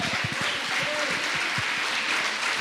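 A church congregation claps in praise during a worship service, a dense wash of steady applause with low voices and murmurs underneath, sustained throughout.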